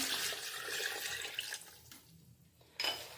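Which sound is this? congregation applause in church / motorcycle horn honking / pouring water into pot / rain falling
pouring water into pot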